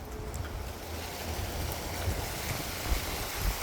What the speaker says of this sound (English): Can you guys hear the wind? It's really windy.